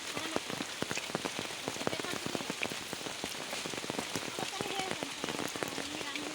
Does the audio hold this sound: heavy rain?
yes